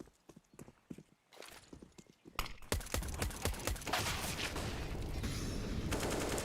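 Gunfire in a competitive Counter-Strike match ends in a headshot: sharp single shots at first, then a dense, loud burst of rapid fire continuing to the end.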